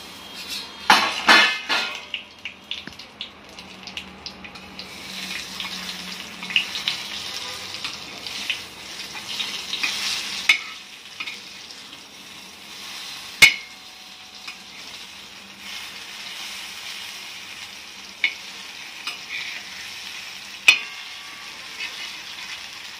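Alu vadi, colocasia leaf rolls, shallow-fry on a flat iron tawa with a continuous soft sizzle, stronger at first and then settling, broken by occasional clicks and taps of a spatula.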